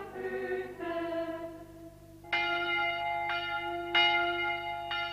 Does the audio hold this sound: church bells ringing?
yes